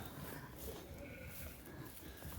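Sheep heavily pregnant at lambing time bleat faintly at a distance on a sheep farm, their soft calls drifting over quiet outdoor ambience.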